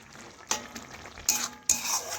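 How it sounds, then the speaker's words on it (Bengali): Broccoli is stirred in a hot pan after a spoonful of sugar goes in, giving a soft sizzle under three sharp scraping strokes of a utensil against the pan, close by and without voices. "নাড়াচাড়া করে চিনিটা ভালোভাবে গলিয়ে নেব।"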